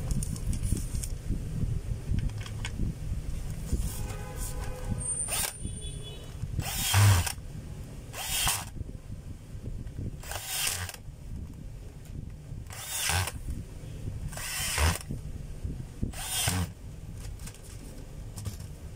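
A DeWalt DWD024 half-inch drill driving a screw, heard as several separate short whirring bursts that rise and stop at intervals over a steady background hum, close by with no talking.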